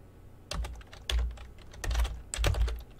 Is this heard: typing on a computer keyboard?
yes